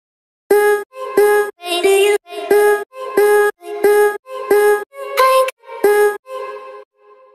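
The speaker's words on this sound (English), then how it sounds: "I've already lay out a pattern of the vocal chop." An island MoombahChill vocal chop pattern built in FL Studio from Arcade samples: about a dozen short, clipped, pitched vocal stabs in a steady rhythm. The stabs are loud and dry with silent gaps between them, and the last hit fades away.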